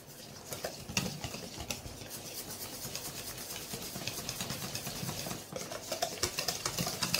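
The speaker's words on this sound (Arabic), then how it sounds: "Je vais bien remuer." A whisk or spoon stirring crêpe batter of flour and eggs in a bowl, a steady rhythmic scraping and swishing that carries on throughout with light knocks against the bowl, close and fairly loud.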